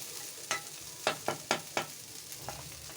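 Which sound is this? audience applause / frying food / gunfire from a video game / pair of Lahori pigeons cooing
frying food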